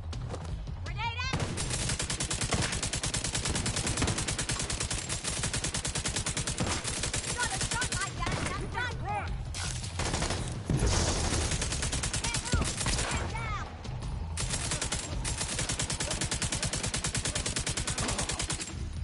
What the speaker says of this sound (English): Don't know exactly who started firing.